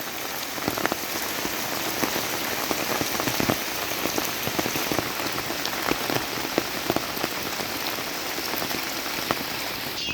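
Light rain falls steadily on a rural house property, a close, continuous patter of drops striking surfaces with scattered sharper hits and no voices.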